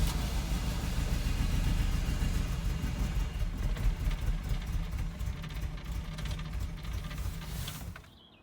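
Steady running of a Ferrari 308 engine with a fuel bypass valve wired in, a close, even mid-pitched drone with slight pulsing that carries for about eight seconds before cutting off abruptly near the end, no voices.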